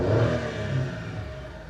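A Nissan Clipper NT100 kei truck's three-cylinder engine revs up close and loud in a short, rising burst, then eases off slightly.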